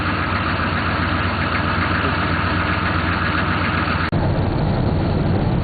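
A vehicle engine idles steadily with a constant low rumble and vibration, briefly cutting out near the end before resuming.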